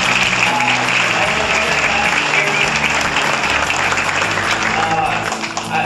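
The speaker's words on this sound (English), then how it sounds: "Give this guy a round of applause" Loud, sustained applause from a dinner crowd at a football team's kickoff dinner, honoring a guest who stands; dense clapping fills the whole stretch without a break, with some cheering mixed in.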